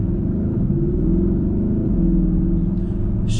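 A 2019 Porsche Panamera Turbo accelerating hard through quick PDK gear shifts, a loud deep engine rumble whose pitch climbs then drops briefly at each fast shift, heard from inside the car.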